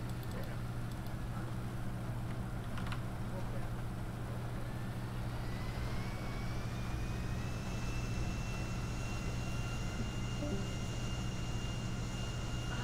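An airplane in GTA 5 gives a steady loud engine roar with a rising whine throughout, up close and continuous.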